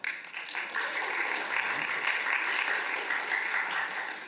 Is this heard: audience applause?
yes